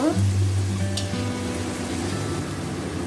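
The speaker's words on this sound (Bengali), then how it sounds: "পেঁয়াজটা ভাজা ভাজা করে নেব" Onion paste frying in a pan gives a close, even sizzle and hiss, with a low hum running underneath and no voices.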